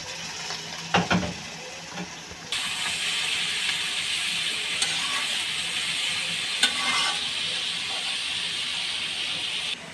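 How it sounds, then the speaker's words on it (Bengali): Carrots and potatoes hit a pan of frying egg, with a brief clatter as they go in, then a steady loud sizzle and hiss with occasional scraping and stirring. "এবার দিয়ে দেব গাজর আর আলু"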